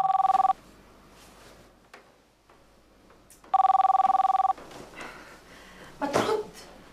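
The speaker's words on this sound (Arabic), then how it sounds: "وفجأة رن جرس التليفون، رن قلقتنا من النوم" A telephone rings loudly at night in a dramatized household scene, two electronic rings about three seconds apart, with quiet rustling and faint voices between them and a noisy burst near the end.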